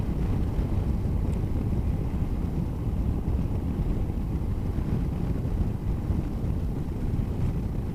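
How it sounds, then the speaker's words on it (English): Wind roars and buffets across the microphone throughout, a dense, steady low rumble from riding a motorcycle on a breezy road in Cornwall toward St Mawes. "It's also a bit breezy today, but not too bad."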